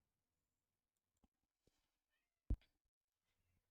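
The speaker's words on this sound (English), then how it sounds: "My cat's just come in and yelling at me." A house cat gives one short, faint meow indoors after a couple of soft clicks, with otherwise near silence.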